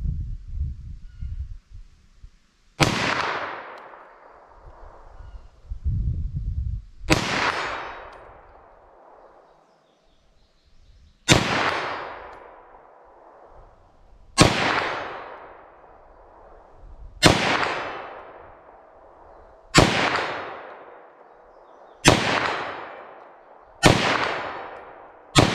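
Nine sharp 9mm +P pistol shots fired at a steel target 75 yards away, each a loud crack with a ringing decay, spaced a few seconds apart and getting quicker toward the end.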